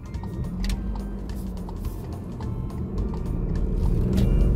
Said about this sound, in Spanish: arrancamos motores, nos vamos a ir a dar una vueltecita